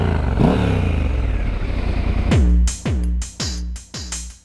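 A Triumph Scrambler 1200 XE motorcycle engine, 90 hp and 110 Nm, rumbles steadily, then is revved sharply four times in quick succession, each blip rising and falling loud and close.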